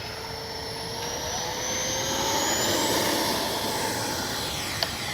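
A Flyfans L-39 Black Diamond 64mm electric ducted-fan RC jet takes off, its high whine swelling steadily as it accelerates and passes, with a rising pitch sweep and one brief click near the end.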